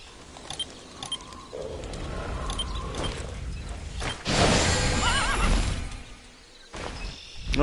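A horse in the online role-playing game Tera gives a loud whinny, preceded by scattered clip-clop and bird-like chirps, with a brief crash and rustle near the end.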